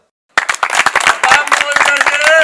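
A crowd at a village headman election rally claps in uneven, sharp bursts, loud and close, with voices talking and calling over the clapping.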